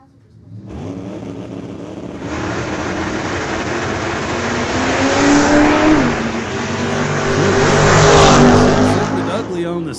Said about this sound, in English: He's going to have to wait around a little while and watch Colin Moore just drive away.